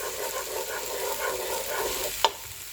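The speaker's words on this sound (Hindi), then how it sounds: "प्याज थोड़ी सी सॉफ्ट होने तक इसको हिलाएंगे" Onions are stirred in a frying pan until soft for an Indian-style red sauce, a low steady sizzle with gentle scraping and one light clink of the utensil against the pan.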